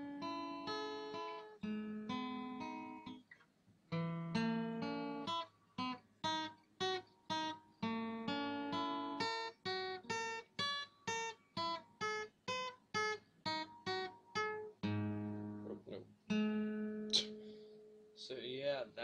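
Acoustic guitar plays the intro of a song: a repeating riff of plucked single notes and short phrases, close and clear, played alone with brief gaps between phrases.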